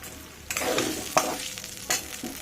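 Beaten lentil paste going into a pan of frying spices, with a loud, close sizzle and several sharp bursts of stirring and scraping over steady frying noise.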